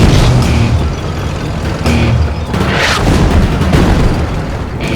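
Wartime artillery fire and explosions around troops near Cologne, Germany, as a dense, loud barrage of booms and blasts rolling one after another with constant rumbling noise between them.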